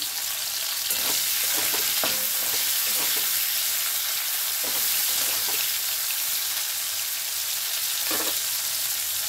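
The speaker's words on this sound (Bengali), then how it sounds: "কপিগুলোকে একটু ভাজবো" Cauliflower pieces frying in a pan with a little salt, giving a steady, close sizzle throughout, with occasional stirring clicks and scrapes.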